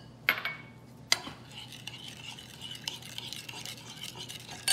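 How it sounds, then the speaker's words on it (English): A spoon stirs sugar and fish sauce into a Khmer catfish vegetable dip in a pot, with light scraping and clinks against the sides, a couple of sharper knocks, quiet and close. "Give it a good stir so the sugar dissolve."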